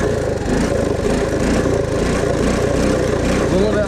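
Honda ATC three-wheeler engine running in second gear, a loud, steady, close droning rumble that fills the whole stretch without a break.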